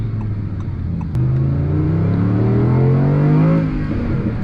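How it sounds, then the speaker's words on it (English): A 2024 Audi R8's naturally aspirated V10 engine revs up with a rising, steady whine, loud and close, climbing in pitch before easing off slightly. "The sound of this V10 naturally aspirated is so good."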